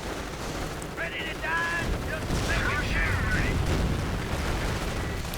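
Anti-tank grenades burst in a WWII strategy game as Shermans and Pershings fight, a rumbling spread of explosions and gunfire under a commentator's voice, with high whistling tones in the middle.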